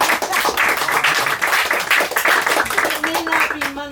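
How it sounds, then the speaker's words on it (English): Audience applause at a New York City talk, dense steady clapping filling the whole moment, fairly loud and close, with some voices mixed in. "It may not be money, but there's clapping."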